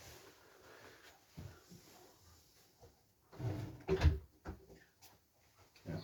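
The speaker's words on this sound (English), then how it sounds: "I'll just close the door for a minute." Indoor door pulled shut in a room, a short cluster of dull thumps and a clunk with a faint latch click, fairly close and moderately loud against quiet room tone.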